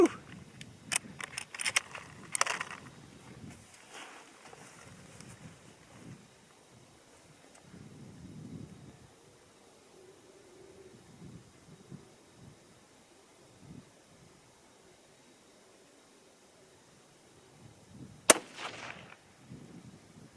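Gunshots from a 22 ARC rifle firing Hornady 53 and 55 grain V-Max rounds outdoors, a few sharp cracks, loudest near the start and one near the end, amid wind noise and rustling.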